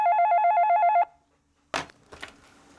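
A telephone bell trills in a steady warbling ring for about a second and stops, followed by a pause and then a few clattering handset noises.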